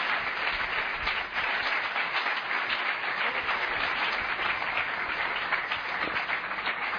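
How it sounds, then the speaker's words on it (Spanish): A church congregation gives God a strong round of applause, a thick continuous patter of many hands clapping, steady and moderately distant, with no voices standing out above it. "Vamos a darle un fuerte aplauso a Dios."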